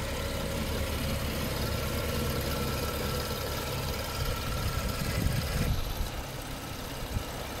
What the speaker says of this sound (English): so we are going to let this idle.